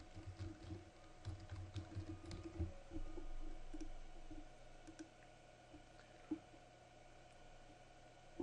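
Typing on a computer keyboard while entering details into Goldmine software: faint, rapid, irregular key clicks over a low steady room hum.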